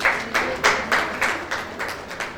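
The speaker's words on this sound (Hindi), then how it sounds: "सभी लोग तालियां से इनका स्वागत कीजिए।" An audience in an NGO hall applauding to welcome a keynote speaker, a steady run of rhythmic claps from a modest crowd, evenly paced and fairly close, with no talking over it.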